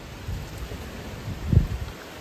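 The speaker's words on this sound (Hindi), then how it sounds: "तूफान रुकने का नाम ही नहीं ले रहा।" A rural evening thunderstorm with rain brings a steady hiss of rainfall over low, rumbling thunder that swells into a deeper roll near the end, heard without talk.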